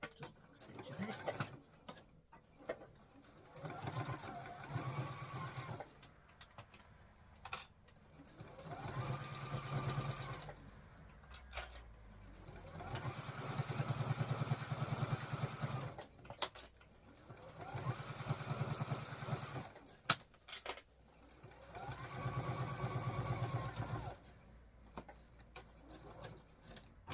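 Sewing machine back stitching through vinyl under a Teflon non-stick foot, running in several short bursts of a few seconds each with pauses between, fairly close.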